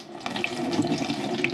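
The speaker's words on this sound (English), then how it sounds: "we're going to pour this Varsol back in" Used Varsol solvent, reused for cleaning air filters on a Can-Am Outlander, is poured back into a bucket, making a steady, close, trickling, splashing stream of liquid.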